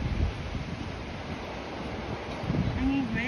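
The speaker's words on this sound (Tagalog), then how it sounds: "Hangin kasi siya." Wind gusting across a suspension bridge over the Kinugawa River in Japan, a steady broad rush that swells louder near the end, with faint voices underneath.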